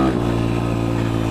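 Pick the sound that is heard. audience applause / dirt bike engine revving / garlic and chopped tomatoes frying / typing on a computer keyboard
dirt bike engine revving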